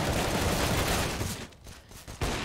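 Dense automatic and rifle gunfire from a Counter-Strike match on the Inferno map, a loud sustained burst of rapid shots for most of the moment before easing into scattered, quieter reports and one final sharp crack.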